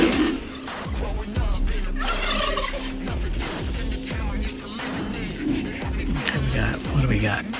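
Turkeys gobble repeatedly in Roblox Kaiju Universe, a loud busy stream of gobbling layered over rumbling game effects and explosions, with a person talking at times underneath.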